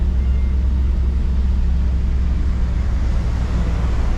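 A 1959 Chevy on a long Texas road trip, with a steady, loud low rumble of engine and road noise continuing throughout, unbroken and with no voices.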